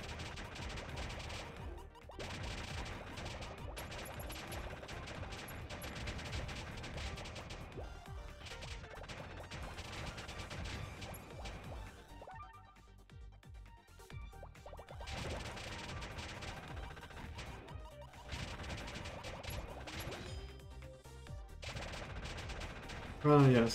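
Rockets launching and exploding in a video game, a dense, continuous barrage of crashing blasts and rapid firing that barely lets up, with a few brief gaps and some speech in the mix.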